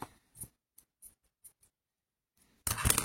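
Good scissors cutting material for scrapbooking embellishments: a few soft, separate snips, close and quiet, followed by a sudden louder burst of rustling noise at the end.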